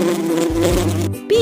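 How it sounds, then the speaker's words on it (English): A bee buzzes in a steady, close droning hum with slight wavering pitch, loud and alone for about a second before cutting off. "B is for bee."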